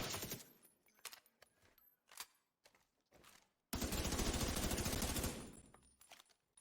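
Submachine gun fire in a video game, with sparse short bursts and single shots followed by a sustained loud automatic burst of several seconds, then fading shots.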